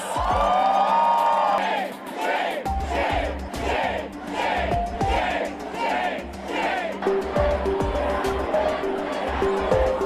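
A crowd at a political protest cheers and chants in rhythmic bursts, loud and close, with whoops and shouts over a background of passing traffic and a voice speaking intermittently.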